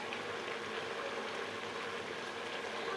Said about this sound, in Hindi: तो हम आलू यहाँ पर शामिल करते हैं, इसमें जो पानी मौजूद है इससे आलू भी गल जाएंगे और हम इसकी भुनाई भी कर लेंगे